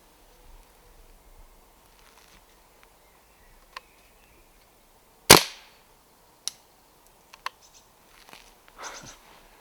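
A Weihrauch HW44 air pistol fires once outdoors during pigeon shooting, a sharp close crack with a brief decay. Faint ticks and small knocks come before and after over a quiet background.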